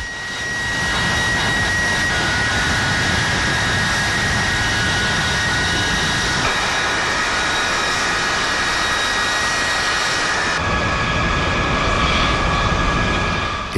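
Jet engines of a B-52 bomber roar steadily and loudly, a dense sustained rush with a high whining tone on top, constant for the whole stretch without any voices.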